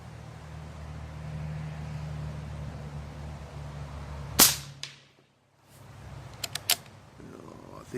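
A QB78 Deluxe CO2 rifle fires a single sharp, loud crack that rings off briefly, followed after a short hush by a few quick faint clicks, over a low steady outdoor rumble.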